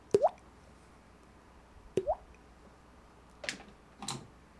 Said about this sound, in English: You can never go wrong with water drop sounds.